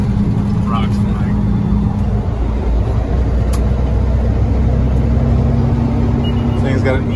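Heavy truck with an Eaton 10-speed transmission rolling down a road, a steady loud low engine drone and road rumble with harmonic whine, continuous throughout with faint background voices.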